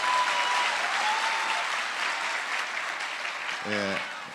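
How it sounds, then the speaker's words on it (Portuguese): Audience at a lecture in Curitiba gives a round of applause, a continuous, fairly soft clatter of many hands that tapers slightly, with a brief voice near the end. "Uma salva de palmas para ele"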